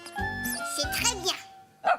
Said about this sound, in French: le chiot ne faisait plus du tout peur à Caillou. Il était tout gentil et tout doux et il adorait jouer